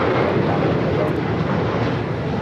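United jet airliner rolling for takeoff on runway 25 right at LAX, a loud, broad, steady engine roar filling the clip, with a radio voice faintly mixed in.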